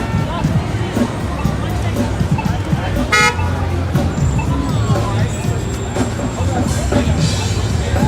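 Busy downtown Toronto street traffic on a hot evening, with a brief car horn honk partway through, surrounded by engine noise and distant crowd chatter.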